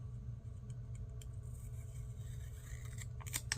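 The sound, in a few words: scissors cutting down paper florals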